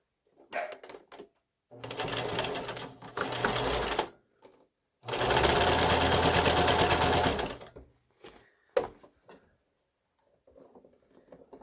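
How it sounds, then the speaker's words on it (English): Sewing machine stitching a piece onto a dog costume, running in two loud sustained bursts of a few seconds each, with quiet fabric handling and small clicks between and after. "I'm just sewing it to the back side of where the buttons were"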